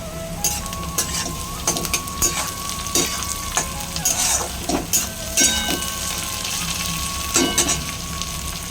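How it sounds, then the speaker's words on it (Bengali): Chopped onions fry with a little salt in hot oil in a pan. A steady sizzle runs under frequent spatula scrapes and clinks against the pan, close and busy, with no speech. "এবারে পেঁয়াজ কুচোগুলো দিয়ে দিই।"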